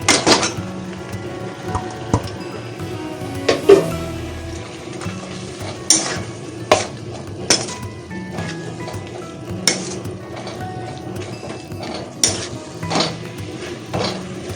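Chicken being stirred into fried spices in a cooking pot, with a utensil scraping and clinking against the metal in repeated sharp knocks over a low steady sizzle, close and fairly loud.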